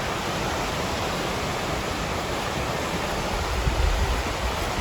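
Near Zittau on an autumn journey across borders, a flowing river produces a dense, even roar of rushing water that holds steady and close for the whole stretch.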